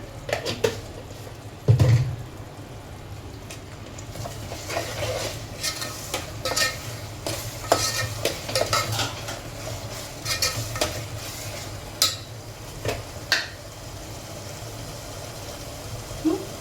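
Chili powder and spices sizzle and fry in a pan while a spoon stirs and scrapes, clinking against the metal now and then over a steady background hiss.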